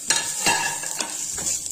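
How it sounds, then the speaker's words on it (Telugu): Pepper masala powder is stirred and fried in a pan for Kadapa-style pepper rasam. A steady close sizzle carries under several distinct scraping strokes of a utensil against the pan. "ఈ పొడిని పచ్చివాసన పోయేంత వరకు మాడకుండా ఒక 2 నిమిషాలు వేయించుకోవాలంట"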